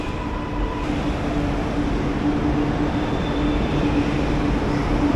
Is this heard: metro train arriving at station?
yes